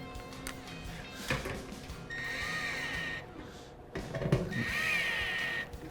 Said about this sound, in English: So now that I got that, I'll go ahead and put it on my little driver here.